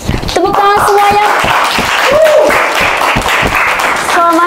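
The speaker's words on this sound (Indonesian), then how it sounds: "Tepuk tangan semuanya." Audience applause greets a guest called onto a talk-show stage, clapping from a crowd running steadily beneath a host's voice and bursts of music-like tones, moderately loud and close.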